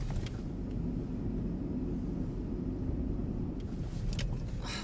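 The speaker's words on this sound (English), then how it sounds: "I think there's a car following me" A car drives along with a steady low engine and road rumble, close and continuous, with faint brief higher noises near the start and end.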